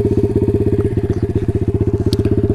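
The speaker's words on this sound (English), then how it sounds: "It seems like it's idling a lot more nicely" A Taotao DB17 125 dirt bike with an upgraded carburetor idles steadily, its single-cylinder engine firing in a fast, even, loud chug right up close, with a brief light click near the end.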